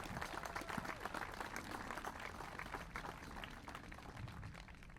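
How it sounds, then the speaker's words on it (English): Applause for police and firefighters at a Memorial Day ceremony in Winthrop, a faint, steady patter of many hands clapping from a distance and sustained throughout. "please give a round of applause to our police and fire for what they do"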